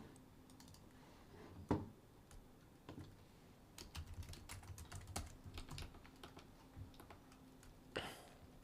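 Computer keyboard typing during late-night C++ programming work, quiet irregular clicks and key taps at moderate distance, with a brief louder clack near the start and another near the end, over a faint background hum.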